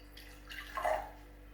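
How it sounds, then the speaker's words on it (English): Red cabbage indicator poured into a glass, a faint, short liquid trickle swelling briefly and fading, quiet and close with no talk. "So I'm going to put a little bit in this glass here"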